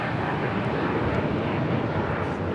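An American Airlines Boeing 787-8 Dreamliner departs Los Angeles International Airport for Miami, a steady loud broadband jet roar that holds close and constant for the whole stretch, with no talk over it.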